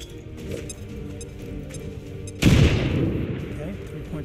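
A grenade detonates in XCOM 2: War of the Chosen, one sudden loud blast midway that rolls off into a debris rumble, following a stretch of lower game noise and talk.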